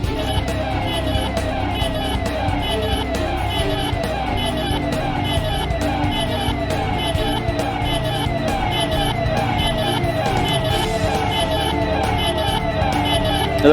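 A police vehicle siren wails continuously in a fast, repeating cycle, loud and close, over a dense background of street noise.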